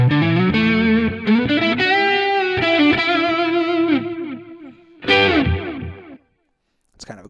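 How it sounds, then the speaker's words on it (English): Distorted electric guitar through an amp simulator's delay effect, notes ringing out and repeating as fading echoes, trailing off into silence before a brief final strum. "Kind of a cool delay sound."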